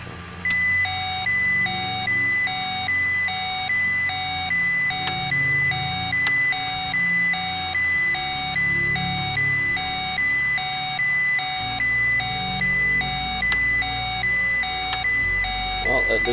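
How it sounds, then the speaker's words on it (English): Lunar Module master alarm in an orbital simulator video game, a loud, insistent, rapidly repeating electronic beep pattern that runs unbroken for the whole stretch over a low background hum. "at least I've finally heard what the master alarm sounds like"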